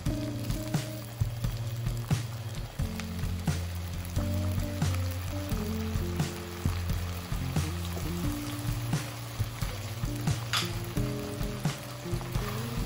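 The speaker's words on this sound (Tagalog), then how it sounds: "Gisa lang natin itong alamang sa garlic." Shrimp paste (alamang) sizzles steadily as it is sautéed in light-brown garlic over medium heat, a continuous frying crackle with soft stirring clicks under background music.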